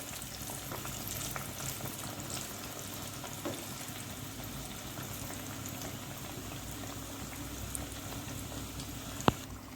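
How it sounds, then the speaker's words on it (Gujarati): Maida-flour puris fry slowly in oil over a low flame for Diwali, giving a faint, continuous bubbling sizzle with a few soft pops and one sharp crackle near the end. "ધીમા ગેસે તળવાની છે અને બ્રાઉન કલરની થાય ત્યાં સુધી તળી લઈશું"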